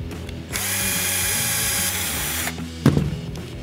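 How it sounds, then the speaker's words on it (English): A drill with a 1/8 inch bit whines steadily into an aluminum panel for about two seconds, loud and close, followed by a brief clunk and rattle as it stops. "All right, I've got some holes drilled in it."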